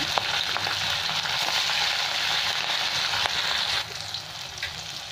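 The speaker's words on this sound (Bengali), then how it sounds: "মাছগুলো এখন ভেজে নিচ্ছি" Steady, loud sizzling of fish frying in hot mustard oil, a dense crackling hiss with occasional pops, dropping slightly quieter near the end. No voices.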